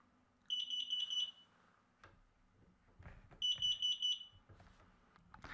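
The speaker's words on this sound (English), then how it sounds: "this device just detected that CO level is really low and it starts to beep right away" A carbon monoxide detector alarm sounds two bursts of four sharp, high beeps each, separated by quieter shuffling and handling noises nearby.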